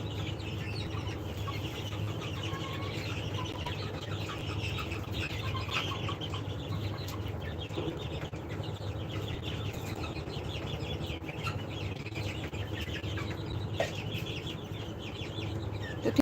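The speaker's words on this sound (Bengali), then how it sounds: "তো আপনারা এরকম মুরগি নিতে পারেন" A flock of 47-day-old laying hens, steady soft clucking and murmuring from several birds at once, moderately distant and continuous, with no voices.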